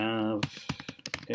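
Keys clatter on a computer keyboard while names are entered into a spreadsheet. A brief voiced tone comes first, then a quick, uneven run of close, crisp keystrokes.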